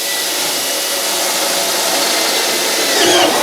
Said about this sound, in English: now I'm just going to drill 1/2 inch holes on all these spots